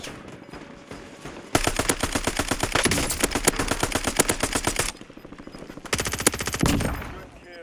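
An HRM-9 submachine gun fires in Call of Duty on Rebirth Island: a loud, rapid automatic burst of about three seconds, then a pause and a second shorter burst, close and dominant.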